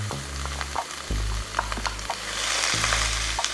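Onion hitting a hot pan sizzles steadily, with a low frying hiss and brief clinks of stirring as the pieces settle, close and fairly loud with no talk.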